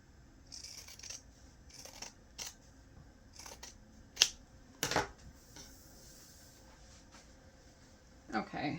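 Scissors snip through fabric seam allowances on a gift bag in scattered crisp cuts, close and soft, while a person talks quietly in between.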